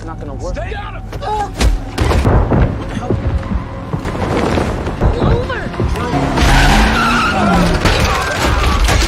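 A car skids and overturns, with screeching tires, scraping and heavy thuds and crashes that build in loudness, all mixed with shouting voices and other commotion.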